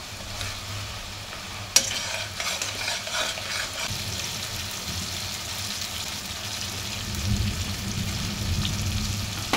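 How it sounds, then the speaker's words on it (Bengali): Mutton sizzles in a pan while turmeric, chili and other spices are mixed through it, a steady hiss with a sharp clack at the start and ongoing scraping of the stirring spoon; no voices. "হলুদ, মরিচ সব ধরনের মশলা মাংসের সাথে ভালোভাবে মিশিয়ে নেব"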